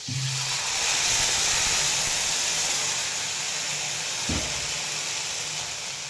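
Water poured into a hot oil tempering of curry leaves and green chillies for plain besan dhokla sets off a loud, continuous steamy hiss and sizzle, with a brief spoon knock midway.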